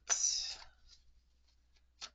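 Tarot cards shuffled by hand during a reading, one crisp riffle burst up front followed by faint card flicks and a final short snap, close and quiet.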